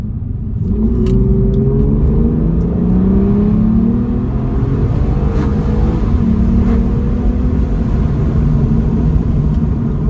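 A 2021 Ford Mustang Mach 1 engine rumbles loudly and continuously, its pitch rising and falling through several revving pulls as the car accelerates.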